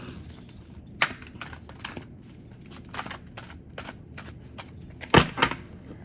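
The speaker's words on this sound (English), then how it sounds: "mind me while I flip these cards real quick" Playing cards being flipped by hand in a quiet room: sparse, soft papery snaps and clicks at irregular intervals, with a sharper, louder flurry of flicks near the end.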